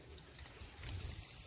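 Water trickles steadily and softly from an opened valve toward a goat area in a Saudi Arabian village, a low continuous gurgle that runs the whole moment without pause.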